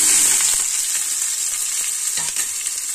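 Onion sizzling steadily in hot oil in a pan, with garlic cloves already in and kofta cooking alongside, a continuous bright crackle with faint stirring knocks, close and alone without talk.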